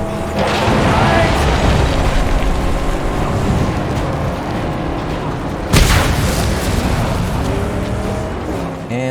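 Booming combat fire from a Mad Max game rumbles loudly and continuously, with one sharp blast at about the middle that stands out from the rolling thunder around it.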